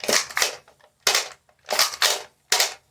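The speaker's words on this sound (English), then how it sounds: "Now the slam fire receives it very well." A NERF Dino Squad Raptor-Slash blaster slam-firing: about six sharp, snappy plastic cracks in quick pairs and singles, close and loud, separated by short silences.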